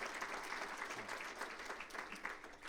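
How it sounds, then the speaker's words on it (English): Applause from an audience at a regional business event, a soft, distant wash of many hands clapping, steady and even with no voices over it. "let's give her a big round of applause"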